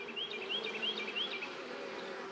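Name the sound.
honeybees at a hive entrance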